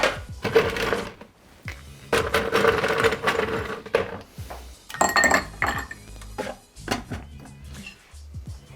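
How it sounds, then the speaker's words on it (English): Ice cubes tumble into a shaker over muddled raspberries for a raspberry vanilla margarita, giving several bursts of bright clinks and rattles, close and fairly loud, with no talking. "Okay, so we're going to add some ice."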